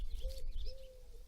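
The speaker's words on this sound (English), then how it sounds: "Can you hear the pigeons?" Pigeons coo softly near tall roosting conifers, a repeated low, hollow call heard twice over a steady outdoor background with faint higher chirps from other birds.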